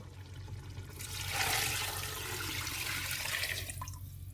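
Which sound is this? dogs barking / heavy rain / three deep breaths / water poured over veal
water poured over veal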